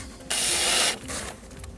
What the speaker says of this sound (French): je suis obligé de visser sur la planche du milieu